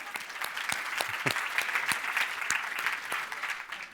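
An audience at a software conference talk applauds continuously for about four seconds, with crisp individual claps standing out of a moderate, steady crowd patter.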